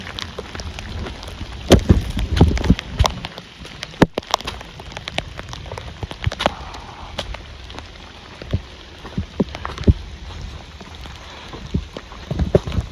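Steady rain on a cold, wet day in the 40s, falling on slippery rocks along a trail. It makes a continuous dense patter, with sharper drops and taps now and then close by.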